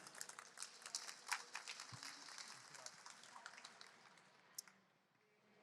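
Audience clapping for a presenter at a cycling and cycle logistics mobility conference, a steady patter of hands filling the hall for several seconds before tapering off.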